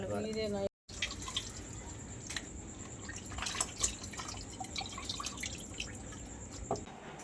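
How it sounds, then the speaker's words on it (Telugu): Gongura (sorrel) leaves are washed in water, giving scattered soft drips and splashes at moderate distance with low background noise. "గోంగూరకే మట్టి ఉంటుంది కాబట్టి నీట్గా కడుక్కోవాలి"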